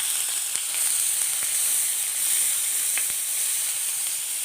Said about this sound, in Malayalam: ഒരു വലിയ കഷ്ണം ഇഞ്ചി ഒരു നാലഞ്ചല്ലി വെളുത്തുള്ളി ചോപ്പ് ചെയ്തെടുത്തതാണ് അത് ഇട്ട് കൊടുക്കാം